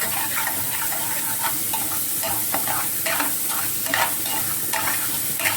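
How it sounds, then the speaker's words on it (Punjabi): Ginger and garlic paste frying with onions in a pan makes a loud, constant sizzle, broken by repeated scraping strokes of a stirring utensil, with no talk. "ਹੁਣ ਆਪਾਂ ਅਦਰਕ ਤੇ ਲਸਣ ਦਾ ਜਿਹੜਾ ਪੇਸਟ ਆ ਉਹ ਵਿੱਚ ਪਾ ਦਵਾਂਗੇ"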